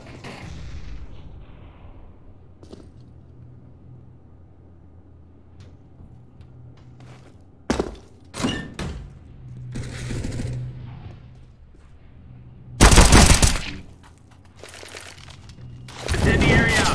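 Grenade blasts and gunfire in the Counter-Strike video game, with a few sharp bursts around the middle and two loud, dense explosions near the end over a low background rumble; a voice talks in places.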